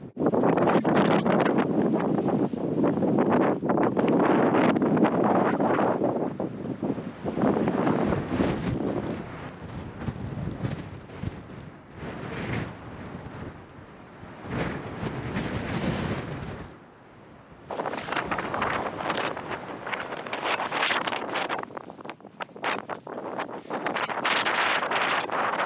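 Strong wind roaring over slick rock in Joshua Tree National Park during an atmospheric river storm, buffeting the microphone for a long stretch, surging and easing in heavy gusts with a short lull midway.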